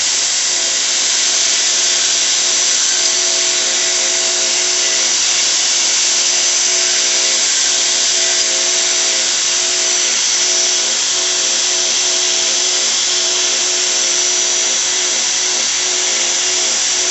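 A belt grinder sands a knife blade, giving a loud, steady, continuous abrasive whine and hiss that holds evenly throughout without a break, with no speech.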